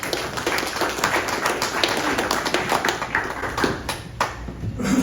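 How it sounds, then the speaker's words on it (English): Audience applause at a Rotary club meeting as a guest speaker is welcomed, many hands clapping steadily and densely for about five seconds with no talk over it. "please give a round of applause for our speaker today"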